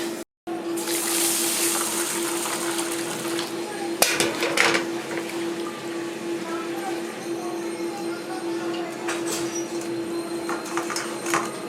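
Lentils (dal) being rinsed in a metal pot in a home kitchen, with steady splashing water and clinking of the pot throughout, a sharper knock midway, and a low hum underneath.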